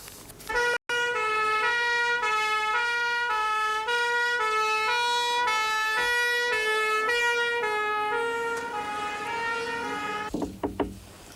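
Ambulance siren wailing loud and steady in a two-tone pattern for about ten seconds, cutting off near the end, with no voices.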